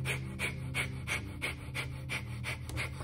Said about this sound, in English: 1, radical breathing, the breath of fire.